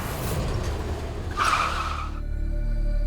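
A car brakes to a stop, tires hissing and squealing briefly over the engine before the noise cuts off and a low rumble remains.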